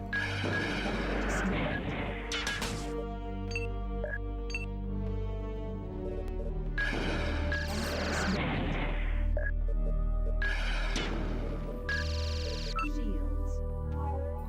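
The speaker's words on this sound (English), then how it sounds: "Please stop shooting me with your guns." Bursts of gunfire ring out in Missionforce: Cyberstorm, several loud, clustered volleys separated by short pauses, mixed with game music and a voice talking over them.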